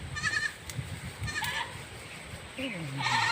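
Several goats bleating in a forest while bucks fight over a female, with repeated loud calls, one long wavering bleat near the end, and someone talking over the animals.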